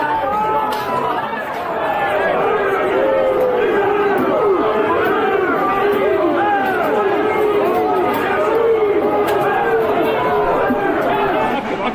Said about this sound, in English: The crowd is now starting to disperse.